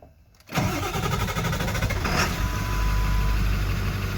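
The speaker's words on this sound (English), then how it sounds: "I guess I'm good to put the truck into neutral and see if it'll start." A Ford 7.3 diesel truck engine cranks and fires up after a fuel filter change, catching quickly into a loud, steady close-up idle that holds without stumbling.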